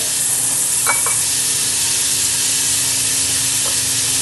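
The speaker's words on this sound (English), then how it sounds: "we want to make sure the onions we put in get a good dose of that butter" Onions fry in butter in a pan with a loud, steady, close sizzle, with brief stirring clinks partway through and no talking.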